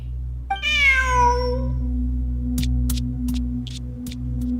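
A single drawn-out cat meow with bright harmonics in the video game Genshin Impact, followed by several short clicking taps over a steady low electronic hum.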